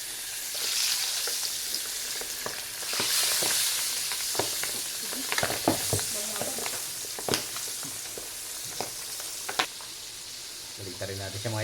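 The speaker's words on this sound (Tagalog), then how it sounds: "Ito na yung ating fried chicken." Chicken pieces frying in a pan of hot oil, a steady loud sizzle with crackles and pops and occasional stirring clatter throughout.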